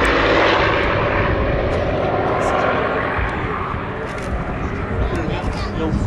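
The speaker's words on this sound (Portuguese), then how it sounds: "Este é o único avião europeu do tempo da Segunda Guerra Mundial" A Hawker Fury WWII propeller fighter's engine roars loudly and steadily, nearby at an air show in Portugal, with a faint background murmur of voices.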